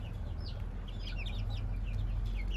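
Gurk mother hens with their chicks, giving scattered high, soft peeps and quiet clucks over a constant low background hum, fairly faint and without voices.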